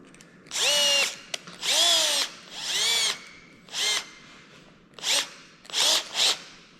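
A power drill bores a hole in a custom marker light for a Kenworth cabover, whirring in six or seven close, loud bursts with pitch that rises and falls as the trigger is squeezed and released.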